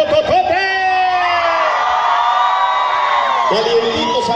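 A dance crowd at a Banda Machos show in Atotonilco el Alto, Jalisco, cheering and whooping loudly together in one sustained roar with higher shouts over it.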